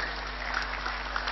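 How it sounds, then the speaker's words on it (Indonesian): Applause from an audience at a TPQ Syiarul Islam graduation ceremony in Tegal, a brief, faint patter of clapping over a steady low hum. "Tepuk tangan dulu."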